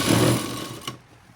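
A sewing machine runs briefly while stitching a child's school uniform, a close buzzing whir lasting under a second before stopping abruptly, leaving near silence.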